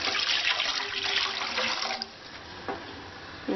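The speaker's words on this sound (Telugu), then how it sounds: "కొన్ని నీళ్లు పోసుకోవాలి." Water pours from a tap into a cooking pan while andhra-style sambar is being prepared, a steady rushing splash that tapers off after a couple of seconds, followed by a few faint clinks.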